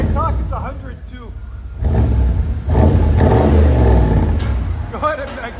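Exhaust of a Chevy 1500 pickup with a 5.7L 350 V8 rumbles loudly, swelling in two long revs that hold a deep steady drone, with someone talking briefly at the start and end.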